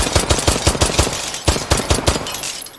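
Rapid, sharp shots from an F12 pistol chambered in 9x18 Makarov in the game H3VR, a fast string of about a dozen loud, close reports with a brief pause partway through.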